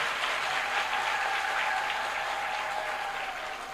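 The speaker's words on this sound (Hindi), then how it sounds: "जरा जोरदार ताली बजाइए" Sustained audience applause from a crowd, steady dense clapping heard from a distance and fading slightly toward the end.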